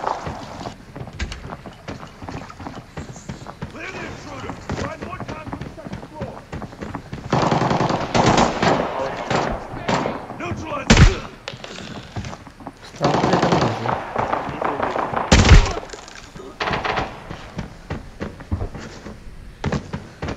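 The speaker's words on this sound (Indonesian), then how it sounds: "Itu tadi suara tembakan." Gunfire in the first-person shooter Arena Breakout: scattered shots and bursts of automatic fire, some distant and some close and sharp, with two loud nearby cracks standing out amid quieter stretches of game ambience.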